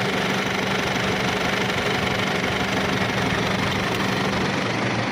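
A 2007 Isuzu D-Max pickup with a 2.5 diesel engine, standing stock and untuned, idles with a steady, even knocking rumble up close and nothing else heard.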